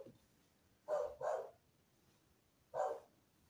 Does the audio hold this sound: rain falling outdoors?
no